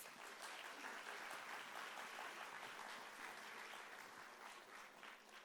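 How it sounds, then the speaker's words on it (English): Audience at a community cultural festival in Singapore applauds its dance and arts teachers, a sustained crowd of hands clapping evenly, fairly faint and distant, tapering slightly toward the end. "Could I request you to please give our GICC teachers and gurus a big round of applause?"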